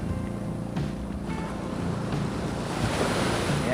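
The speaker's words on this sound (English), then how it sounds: "right here the river comes in to the ocean" Ocean surf rolling onto a Philippine beach where a river meets the sea, a continuous loud wash of waves mixed with wind noise buffeting the microphone.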